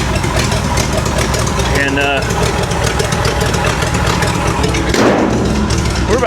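A 1970 International D1000 truck engine idles steadily and loudly while warming up after decades abandoned, its rough, uneven rumble running throughout, with someone talking over it.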